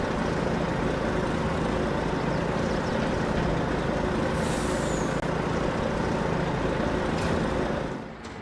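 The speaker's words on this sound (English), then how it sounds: "It's a loud truck." A heavy truck engine in Farming Simulator 22 drones steadily at close range, a loud constant rumble with a faint hiss partway through, fading slightly at the end.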